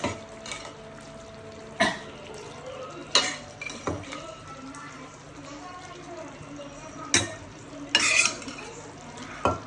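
Mutton added to cooked masala in oil sizzles softly beneath a series of sharp spoon and pot knocks and scrapes, with a voice speaking intermittently.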